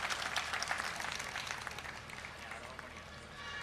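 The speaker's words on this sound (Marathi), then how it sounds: "जर आपण सर्वांनी टाळ्या वाजवायच्या आहेत" Faint, dense applause from a seated audience at a felicitation ceremony during a public lecture event, a soft continuous patter of many hands with murmuring voices mixed in.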